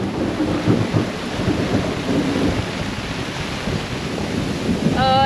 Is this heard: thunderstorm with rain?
yes